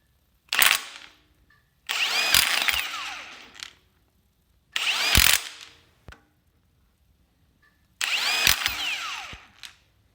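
Impact or power wrench bursts on a Mazda pickup as bolts are torqued down in a cross pattern, four loud whirring runs of a second or two each, separated by pauses and small clinks, with no talking.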